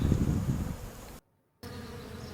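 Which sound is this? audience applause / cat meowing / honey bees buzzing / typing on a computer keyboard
honey bees buzzing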